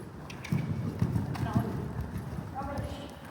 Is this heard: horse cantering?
yes